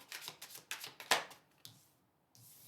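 Tarot cards drawn from a deck during a reading: several quick soft papery slides and flicks close by, one sharper snap near the middle, then quiet.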